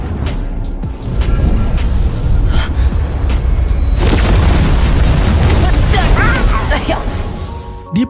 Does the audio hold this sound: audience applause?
no